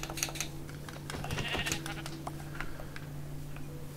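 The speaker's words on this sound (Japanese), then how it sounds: "羊も。" Sheep bleats in Minecraft on PC, a few short game-sound calls standing out over a steady low hum and light keyboard-like clicking, at moderate level with no talk.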